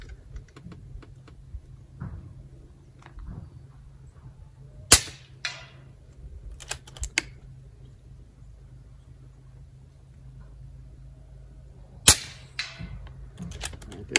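FX Wildcat MK3 air rifle firing .25 pellets over a chronograph, several sharp cracks spaced irregularly, two louder shots and smaller clicks of handling in between, fairly close in a quiet room.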